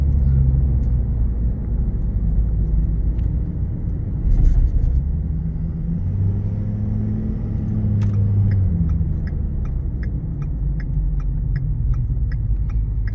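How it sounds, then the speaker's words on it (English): Inside a 2016 Ford F-250 Super Duty XLT on a test drive, a loud, steady low road and engine rumble fills the cab, with faint ticking and small clicks above it. "All right, we're going on a test drive here."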